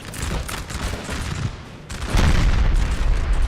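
Musket volleys crackle in Napoleon: Total War, a dense, loud rolling fusillade with booming layers that swell in a second, heavier wave.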